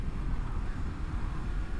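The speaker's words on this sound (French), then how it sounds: "sachant qu'aujourd'hui il y a déjà beaucoup de vent en soi." Steady, dense wind roar buffets a motorcycle helmet microphone with the visor closed on a windy day, loud and continuous with no talk.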